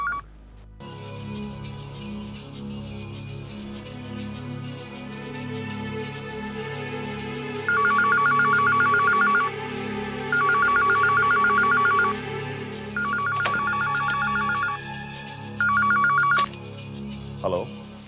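A telephone rings in repeated electronic bursts, four loud trilling rings spaced a few seconds apart over a dramatic TV soap background score, with no one speaking over it.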